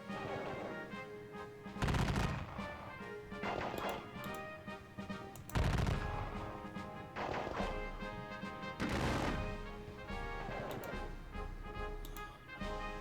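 Gunfire from a Napoleonic Battle of Borodino wargame: sharp volleys crack out in three louder bursts about every three to four seconds, with scattered shots and a steady rattle of battle noise in between, no talk.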